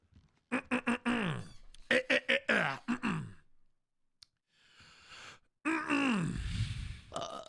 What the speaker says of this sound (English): clearing my throat